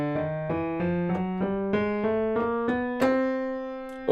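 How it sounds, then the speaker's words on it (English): A piano-like instrument plays a chromatic scale rising in half steps from C up to the next C, thirteen evenly spaced notes climbing steadily, clear and alone. "that is just every note played in half steps, one after another, from C all the way up to C again."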